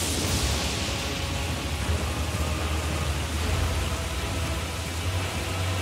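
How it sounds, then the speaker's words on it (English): Steady, loud rain and gusting wind fill the weather of Elden Ring, a broad continuous hiss with a low rumbling undertone, unbroken across the whole stretch with no voices. "I love it when it rains and when it's blowy like this"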